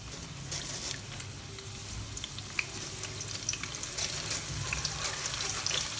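Black lentils fry in hot oil for a crispy nimko snack mix, a steady close sizzle and crackle with small pops and faint stirring sounds throughout.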